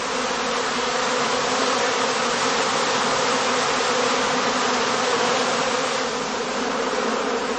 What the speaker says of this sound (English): During this time, the bees are gathering nectar and pollen to supply the colony.